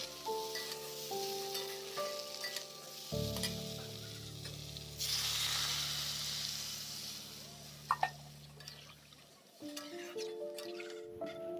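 Potatoes and taro frying in hot oil with cumin, bay leaf and green chili, giving a steady close sizzle that swells as the vegetables go in and are stirred, with light clatter and a brief voice in a village kitchen.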